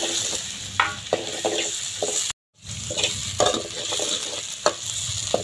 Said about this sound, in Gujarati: આજે અંદર મિક્સ ભાજી કટિંગ કરી હતી તે અંદર નાખી રહ્યા છે